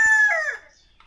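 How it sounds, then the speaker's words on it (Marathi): A single loud rooster crow near a farm where fowl gather to eat fallen jackfruit, a clear drawn-out call that trails off into quiet. "समोर कोंबडा ओरडतोय मोठ्या मोठ्याने"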